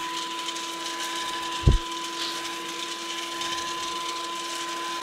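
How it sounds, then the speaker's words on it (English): An AIRKII handheld vacuum cleaner with an 80-watt motor and an extension tube attached runs with a steady, even whine and hum, broken once by a brief low thump, and no one speaks. "I've just put the extension tube on to show you a demonstration with the"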